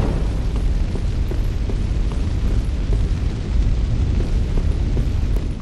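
Fire spreading and burning across pillars in Dark Souls III, a steady loud roaring rumble with low crackling that holds for several seconds without a break.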